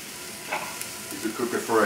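Ground beef sizzling and frying in a pot for a dish of yellow split peas with beef, potato and corn, with a steady close hiss and a few stirring scrapes rising toward the end.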